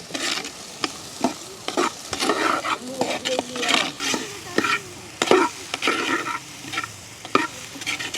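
Ingredients sautéing in a pan over a village cooking fire, a constant close sizzle punctuated by repeated scraping and clacking stirs of a spoon against the pan.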